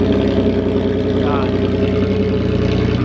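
A Volkswagen Mk4 R32 with a straight-piped exhaust idles loudly, a deep, uneven rumbling burble, steady and close throughout.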